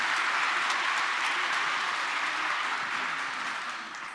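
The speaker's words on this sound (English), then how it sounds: "I think I've spent more time standing up here waiting for you to stop clapping for Lori." Audience at a Chicago mayoral candidates LGBTQ forum clapping loudly and steadily, a dense continuous wash of applause that holds for several seconds and begins to thin toward the end.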